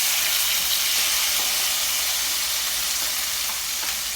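Ackee and saltfish with seasoning sizzling in a hot pot, a steady loud frying hiss with faint crackles throughout, no voices.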